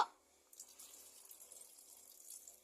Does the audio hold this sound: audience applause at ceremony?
no